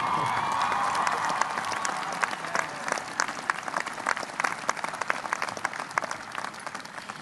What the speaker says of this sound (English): So I want to hear another round of applause for Matt.